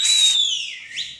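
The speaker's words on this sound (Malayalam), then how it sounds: "അപ്പൊ ഒരു ഒരു വിസിൽ വേണ്ടേ ഈ പാട്ടിന്?" A single sharp whistle rings out on a stage during a song performance on a juniors' talent show, holding a bright steady tone before sliding lower and briefly rising again, loud and close with no talk.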